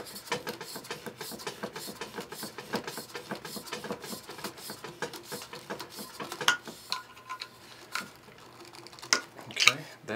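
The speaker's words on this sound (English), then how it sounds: "we're gonna take the impeller and we're gonna slip it in. I'm gonna hold the shaft with my flat screwdriver and just screw it in until you feel it bottom out" Impeller being screwed by hand onto the pump shaft of an Aqua-Flo 200 hot tub pump, the shaft held with a flat screwdriver; close, faint scraping and ticking clicks come in an irregular run, with brief sharper knocks near the end.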